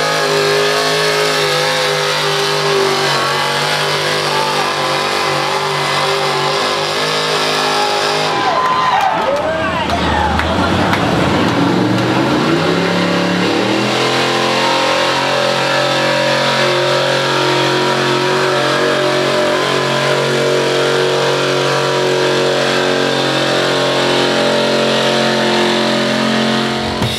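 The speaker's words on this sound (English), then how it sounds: "You guys check out the tractor pull or the truck pull or whatever kind of pull that was." Engines rev loudly at a truck and tractor pull at a county fair, a sustained roaring drone with a sharp surge and pitch sweep midway, then a steady heavy rumble under crowd noise and some talk.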